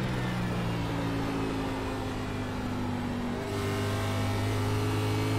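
NASCAR Class B stock car engine droning steadily in the iRacing sim during a race, a constant close in-car hum with sustained tonal layers and a slight pitch shift partway through, no voices.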